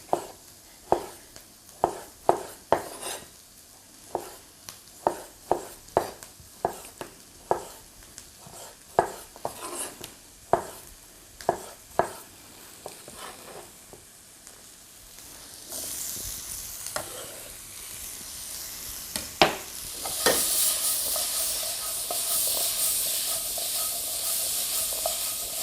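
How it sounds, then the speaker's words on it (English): Spices sizzle and fry in a pan for vegetarian nachos, with a spoon stirring and scraping in a steady run of sharp clicks, then the frying swells into a loud, continuous hiss near the end. "let those spices cook out for a couple of minutes before we add the tomatoes in."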